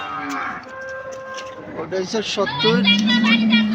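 At a crowded cattle market a cow lets out a long, loud moo near the end, following several seconds of people talking close by.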